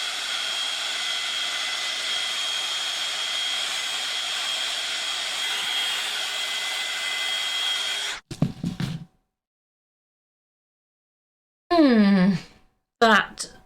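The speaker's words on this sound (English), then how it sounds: "let's get the heat gun on this and see what it looks like" A heat gun blows a steady, loud whooshing hiss onto a driftwood sign for about eight seconds, then cuts off, followed by brief handling noises and short bursts of talk.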